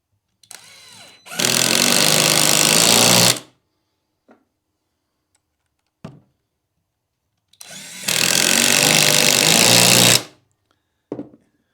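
Hyper Tough impact driver running in two loud, sustained bursts of roughly two to three seconds each, with brief clicks and taps between them and no talk.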